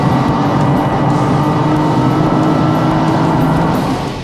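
A Porsche 911 GT2 drives hard into a track corner at 120 mph, a loud, sustained engine drone and wind roar heard steadily from inside the car, easing slightly at the end.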